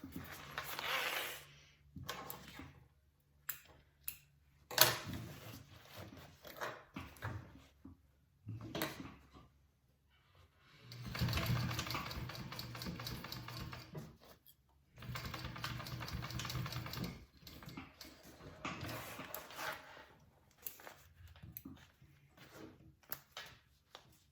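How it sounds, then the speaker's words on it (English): A sewing machine stitches over a zipper on a bag in short stop-start bursts, several runs of whirring motor between quiet pauses and small mechanical clicks, close and fairly soft. "So go ahead and just sew this little spot on your zipper."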